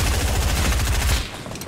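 Dense, loud gunfire from several shooters in a video game, with rapid overlapping shots forming a continuous rattling volley that cuts off abruptly near the end.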